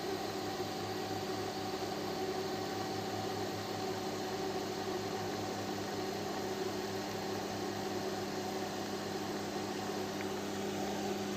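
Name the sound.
Magnatech D-Head orbital welder welding stainless steel pipe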